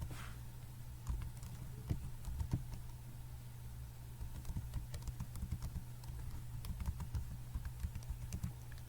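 Computer keyboard typing while entering a WordPress site address into a browser, quiet scattered keystrokes over a steady low hum, with no voices.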